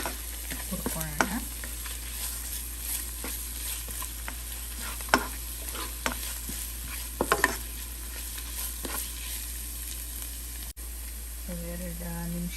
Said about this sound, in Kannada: ಸೊ ಇದನ್ನು ಅಷ್ಟೇ ಒಂದು ಹಸಿ ವಾಸನೆ ಹೋಗೋ ತನಕ 1-2 ನಿಮಿಷ ಇದನ್ನು ಹುರ್ಕೊಳ್ಳೋಣ.